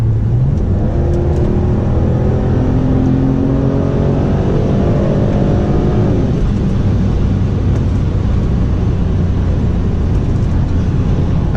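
A 2004 BMW E46 330i ZHP sedan engine accelerating hard from inside the car, loud and steady, with rising harmonics climbing through several gears for about six seconds before settling into a sustained cruising drone.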